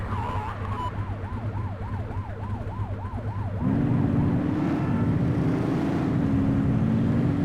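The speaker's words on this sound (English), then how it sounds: "You're only meant to use the siren in emergencies." A video game police car siren sweeps up and down rapidly, then switches to a slower rising-and-falling wail, loud and continuous over a low engine hum, in The Precinct.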